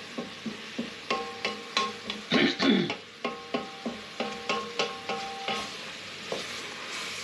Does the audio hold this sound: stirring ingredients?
yes